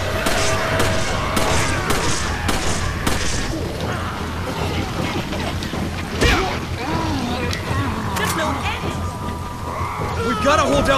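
Rapid gunfire from Resident Evil 5 as a handgun unloads on an executioner enemy: repeated sharp shots and heavy impacts in a dense, continuous burst with game sounds behind.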